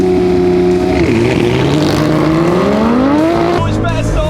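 An Audi RS6 launching hard in a drag race against a Porsche, a loud roaring engine climbing through the revs with a brief dip at a gear change, then dropping off near the end, someone talking over it.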